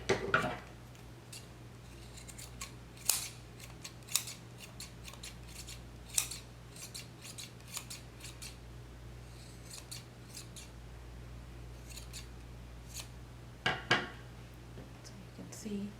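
Scissors trim yarn on a shark-shaped pom pom, giving a handful of crisp, quiet snips spaced irregularly against a hushed room background.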